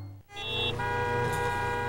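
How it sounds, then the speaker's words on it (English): A car horn sounds in a long, steady blare with a bright harmonic tone, starting after a brief pause and holding for over a second. "Honk if you love TV."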